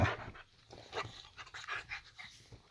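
A boxer dog pants rapidly and close by, with a rhythmic run of breathy huffs at a moderate level and no talking.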